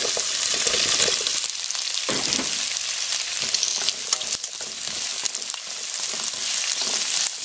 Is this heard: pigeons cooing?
no